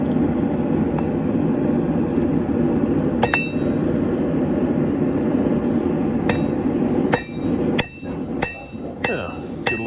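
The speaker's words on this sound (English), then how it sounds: "Now I'm taking the flat face of the hammer, start forging it down, smoothing all the cross peen marks." A hammer strikes hot steel being forged into a war hammer, giving sparse, sharp metallic clangs through a steady broadband roar of forge background noise, with several blows clustered toward the end.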